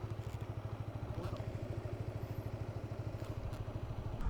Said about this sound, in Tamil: வண்டி வண்டி போகுதுடா.